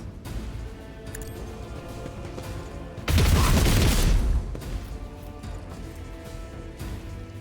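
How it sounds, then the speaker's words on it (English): Burst-fire gunshots in the Warhammer 40,000 video game Rogue Trader: a dense, loud crash of rapid shots lasting about a second and a half, standing out over quieter game sounds. "And then burst fire again like this."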